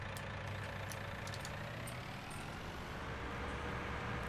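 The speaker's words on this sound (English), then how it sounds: "You want to try my tractor and see if it works?" A tractor engine runs at a steady, low idle in Farming Simulator 19, a continuous, fairly faint drone with a few light ticks on top.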